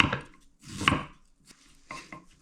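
A knife slices through peeled fresh ginger on a cutting board, giving a few separate crisp chopping strikes with short pauses between them, close and clear, with no talking.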